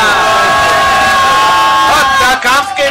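Wrestling event crowd cheering and shouting loudly throughout, a dense roar of voices with whoops rising near the end.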